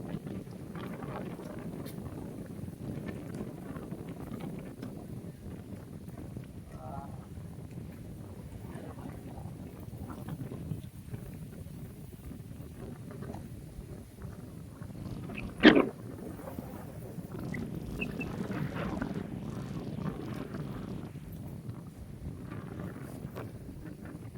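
Strong wind buffets the microphone in a steady low roar at Ilaveezhapoonchira, with one sharp gust-like thump partway through.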